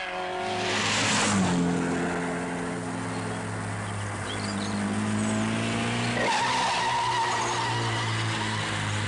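Rally cars climb the Col d'Espigoulier on the 1958 Coupe des Alpes, engines droning close by with rising and falling pitch as they pull through bends, a sharp tyre squeal near the start and another car surging past later.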